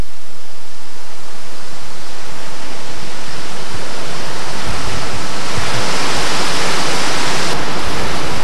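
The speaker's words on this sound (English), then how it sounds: "These Archimedes screw pumps lift the water up where it begins its treatment process." Archimedes screw pumps at a wastewater treatment plant lift raw sewage in a loud, steady, broadband rush of churning water that fills the whole stretch without a break.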